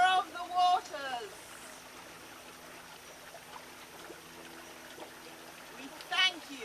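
Spring water trickles steadily in the background, a soft continuous flow that stays low beneath a voice speaking at the start and again near the end.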